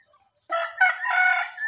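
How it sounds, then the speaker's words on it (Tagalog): A rooster gives a single loud, close crow after a brief quiet moment, part of a farm flock of chickens. "Yan yung mga manok nila dito guys."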